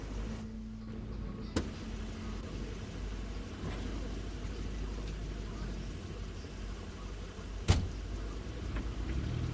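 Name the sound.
car arriving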